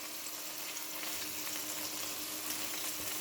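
Meat pieces browning in a well-oiled, seasoned cast iron pan sizzle steadily and loudly, a dense, even frying hiss that holds from start to finish with no talking.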